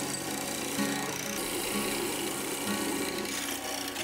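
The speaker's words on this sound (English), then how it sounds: "So I use my mortiser" A mortiser cuts a small hole in wood for a switch recess in a router table cabinet build, giving a steady grinding, rasping drone of medium loudness that carries on without a break.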